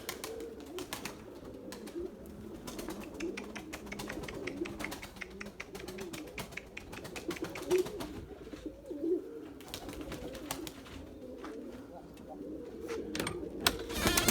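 Purebred Erzurum white pigeons coo steadily in a low, burbling murmur, several birds close by and continuous throughout, with faint background noise and possible brief talk.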